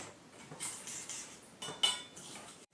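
Breadcrumbs, flour and egg stirred together in a bowl, a spoon scraping and clinking against the dish in brief repeated strokes, close and moderately loud.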